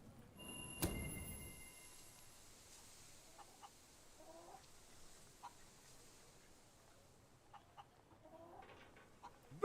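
Chickens clucking during a chicken race in the video game Fable 3, short scattered clucks and calls over a quiet ambient bed after an early loud thump, no talking.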